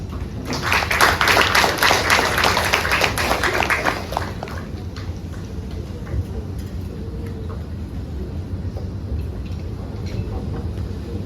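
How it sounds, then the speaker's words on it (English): Applause from a seated audience at a Women's Day event, welcoming a speaker to the stage; dense, loud clapping for about four seconds, then tapering off into a lower room murmur. "Let's welcome her with a big round of applause."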